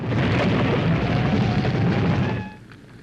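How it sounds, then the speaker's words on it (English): A fiery explosion from a beach party monster movie makes a dense, sustained roaring rumble for about two and a half seconds, then cuts off into quiet. "that fiery explosion we saw is probably unrelated"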